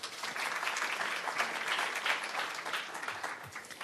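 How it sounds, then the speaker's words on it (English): An audience at a United Nations event on women business owners claps steadily, a continuous even patter of many hands, moderately distant and fairly quiet, with no voices over it. "Can we please give her a big round of applause, everybody?"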